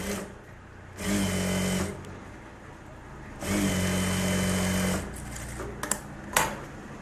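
Sewing machine stitching a Bharatanatyam dance dress blouse, running in two steady whirring bursts of about a second each with quieter pauses and small clicks between them, close up with no talking.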